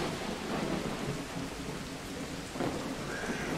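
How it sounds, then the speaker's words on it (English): Thunderstorm in a Bigfoot video game: heavy steady rain hisses across the surfaces while low thunder rumbles underneath, rising briefly near the end, with no voices. "Oh no! What? What? It's a thunderstorm."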